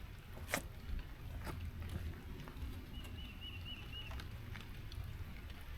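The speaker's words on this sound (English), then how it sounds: "And now it's starting to rain again." Light rain beginning to fall outdoors by the water during a fishing outing: scattered drops patter over a steady broadband hiss, with a faint brief chirp partway through.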